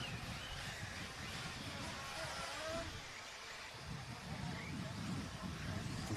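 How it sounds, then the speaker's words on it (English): Race cars revving their engines together at a Herts GP motorsport event in 2023, a continuous roaring engine drone filling the background from start to finish, with a commentator's voice talking over it. "As the noise in the background starts, because they're all revving up"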